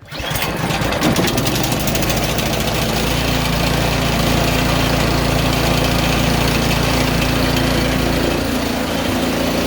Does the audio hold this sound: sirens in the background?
no